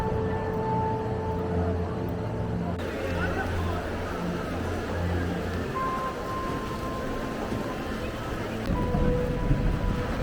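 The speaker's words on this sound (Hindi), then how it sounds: "अभी इतनी सख्त गर्मी थी और अब बारिश शुरू हो गई" Rain falls steadily across an open square in Florence, Italy, a continuous hiss of drops on stone with a faint tonal hum underneath and rising a little toward the end.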